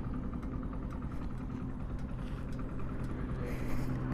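A Hero Splendor BS6 motorcycle engine idles at the roadside with a low, steady, even putter, fairly quiet and alone without talk.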